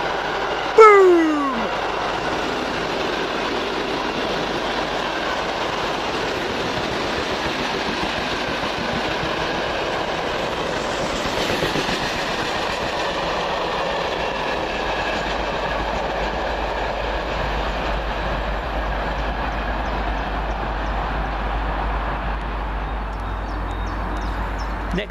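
Class 57 locomotive 57306 and its train rumble steadily through Cheddington station, with a sharp squeal near the start and a continuous rolling roar that holds at the same loudness for the rest of the passage.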